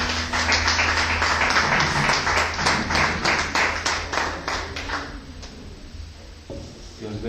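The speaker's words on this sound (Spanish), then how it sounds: "usted le brinda un aplauso fuerte" Loud, strong applause from a church congregation during a worship service, dense clapping with a music-like hum underneath, fading out over the last couple of seconds.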